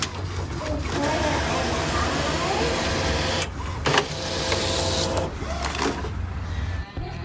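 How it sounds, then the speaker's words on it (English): An Epson 1430 inkjet printer runs a nozzle check, its print head carriage whirring and shuttling back and forth in steady mechanical passes, close and moderately loud, with brief pauses between. "I'm going to click on nozzle check and I'm just going to follow the prompts."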